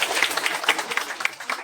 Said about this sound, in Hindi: जोरदार तालियों से आप लोग स्वागत कीजिए